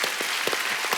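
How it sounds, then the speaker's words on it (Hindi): Studio audience at a comedy talk show bursts into applause, a dense, even roar of many clapping hands lasting about a second with no talk over it. "तालियां बनती हैं भाई आपके लिए।"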